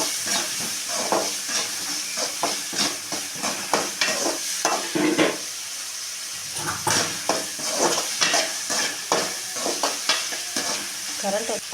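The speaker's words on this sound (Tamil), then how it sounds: "எல்லா வெங்காயத்தையும் வெங்காயம் நல்லா வணங்குற வரைக்கும் நம்ம கிண்டி விடுவோம்." Onions frying in hot oil for an eggplant gravy, stirred in quick repeated scrapes over a continuous close sizzle, with a brief pause midway.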